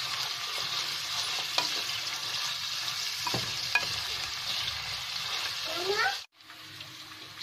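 Onions frying in oil until golden brown, with a steady close sizzle and a few stirring scrapes, cutting off abruptly near the end before a quieter hiss resumes.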